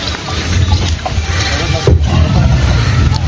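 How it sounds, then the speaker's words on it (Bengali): Speed boats running at a boating point on a lake in Meghalaya, a steady broad engine and water rumble with wind buffeting the microphone, fairly loud and continuous throughout. "এই বোটিং পয়েন্ট সবই স্পিড বোট, কোনোটা 5 মিনিট করেই কভার করে।"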